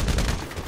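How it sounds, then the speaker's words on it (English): A rapid burst of machine gun fire from a video game rattles loudly and close, dense repeated shots over a brief moment. "Nigga using a whole MG."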